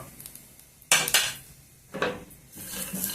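Fried ingredients tipped into a pan on low heat while Telugu-style chutney for dosa and idli is made, giving a few sharp clattering scrapes and knocks of metal against the pan, close and fairly loud, with quiet gaps between.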